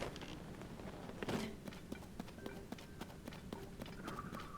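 Horse hooves in the Zelda Tears of the Kingdom video game, a soft, quiet clip-clop of rhythmic steps trotting along, faint throughout.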